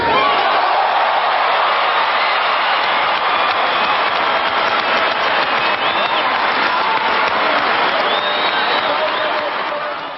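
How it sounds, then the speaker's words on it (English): A large crowd at an NYPD academy graduation ceremony breaks into loud, sustained applause and cheering as the graduating class's gloves are tossed into the air. The dense clapping continues for ten seconds, fading slightly at the very end. "everyone's gloves go up in the air, and all the applause starts"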